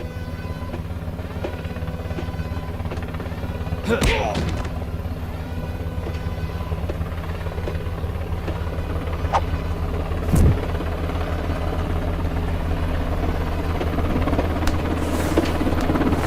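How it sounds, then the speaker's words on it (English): A helicopter in an Eddsworld animated fan movie drones steadily with a low rhythmic rotor thrum, loud and continuous, with a few brief knocks along the way. "Yes, that's a helicopter."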